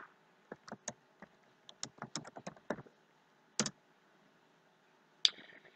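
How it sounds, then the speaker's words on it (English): A computer keyboard is typed on to enter a search, with sparse, quiet, close-up key clicks in short uneven bursts separated by pauses. "type in what we're looking for"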